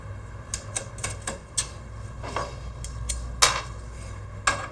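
Bolts are fastened onto the braces of a QUALSTAR unit during assembly, heard as a quiet series of sharp metallic clicks and taps at irregular intervals over a low background hum.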